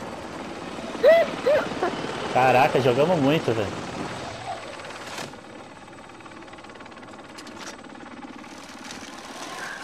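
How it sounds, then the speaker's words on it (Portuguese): Helicopter in the video game Call of Duty: Modern Warfare, a steady rotor and engine drone running under excited shouting from players early on, then continuing more quietly on its own. "Chama no helicóptero!"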